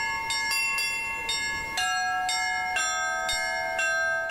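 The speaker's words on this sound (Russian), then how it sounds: "Московская традиция – это маленькие колокола и частый звон." Church bells rung by hand in a belfry in the small-bell Moscow style, with about ten clear, bright strikes in quick succession, each ringing on with overlapping tones.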